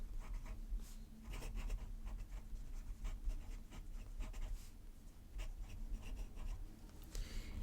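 A fountain pen fitted with a custom-ground mini Sunkuksen nib scratches softly across paper in quick, continuous strokes, faint and close against a low background hum.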